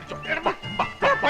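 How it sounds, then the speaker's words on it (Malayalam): A dog gives a quick run of short, close yips and barks, four or five bursts in barely more than a second. "പട്ടി."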